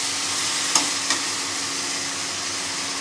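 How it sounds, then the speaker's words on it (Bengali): Masala for a Bengali parshe fish curry sautés in a pan with an even, close sizzling hiss, marked by two light spatula knocks early on. "আমি ভালো করে কষাচ্ছি।"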